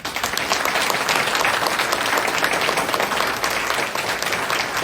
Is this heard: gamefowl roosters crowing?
no